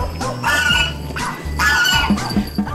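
A pet dog barks and yips up close in several loud, sharp bursts, with short whimpering squeals between them.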